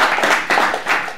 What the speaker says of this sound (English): you deserve a great applause for what you did.